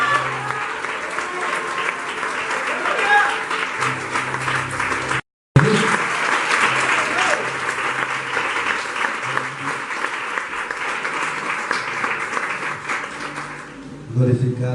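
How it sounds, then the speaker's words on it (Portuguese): Sustained applause from a church congregation at a Wednesday worship service, dense clapping that breaks off abruptly for a moment and then resumes. A voice speaks faintly under the clapping, which thins out near the end. "Aplauda o Senhor, meu irmão"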